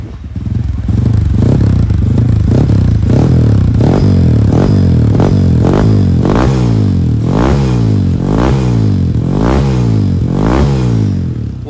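A Kawasaki KLX 150 supermoto with a bored-up engine runs loud and near, its deep, bassy exhaust note rising and falling in repeated gentle revs with a steady rhythmic throb throughout.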